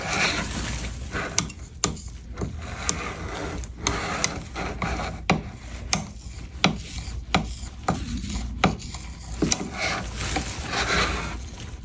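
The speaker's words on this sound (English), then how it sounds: "I am just smoothing out my model" A poured dental stone model being smoothed by hand, heard as soft, continuous rubbing and scraping strokes broken by frequent small clicks and taps. It stays close and fairly quiet, with no talking.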